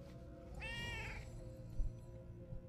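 A cat meows once in a drawn-out, wavering call, fairly close and clear over a low steady background hum, with a soft thump shortly after and no talking.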